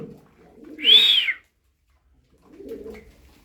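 A single pigeon coos once, close and fairly loud, with quieter low rumbling before and after; the bird is one of thirteen pigeons, including crested and spangled birds, being offered for sale.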